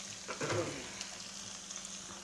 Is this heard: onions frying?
yes